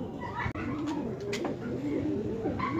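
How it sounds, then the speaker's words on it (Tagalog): Four racing pigeons kept by a fanciers club coo softly nearby, a few repeated throaty coos over a steady background murmur. "So, apat na ibon mga kalapatids."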